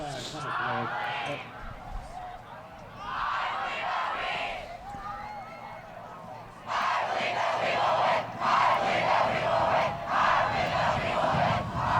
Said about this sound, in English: I love the school spirit showing up in this weather, cheering, going nuts.